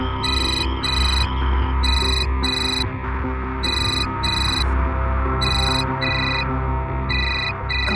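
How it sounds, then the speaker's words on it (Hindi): A phone's ringtone plays as a call goes unanswered, a loud repeating electronic melody in evenly spaced bursts over a dense, dramatic music bed, with no voice. "उठाओ फोन।"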